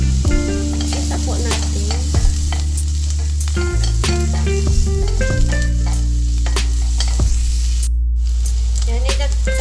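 Oil sizzles and crackles loudly in a pan for a gluten-free chicken and broccoli stir-fry as onion is added, with constant frying hiss, stirring clatter and a faint hum, while a voice speaks briefly.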